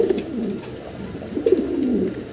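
Large fancy pigeons coo in low, soft throaty bursts, two clear phrases close by over a murmur of background noise.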